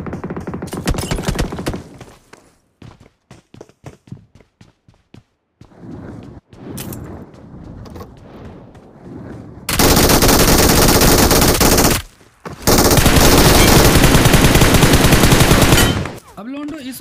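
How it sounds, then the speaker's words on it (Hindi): Mobile battle game gunfire: scattered single shots and short bursts early on, then two long sustained stretches of loud rapid automatic fire, close and dense with only brief gaps between them. "उतने में ना सामने तरफ से देखो फायरिंग खतरनाक आ रहा था"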